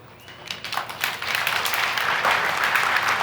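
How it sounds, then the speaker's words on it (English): A keynote audience at a Keller Williams Vision 2018 event breaks into clapping that starts sparse and swells into dense, steady applause filling the hall. "no more clapping"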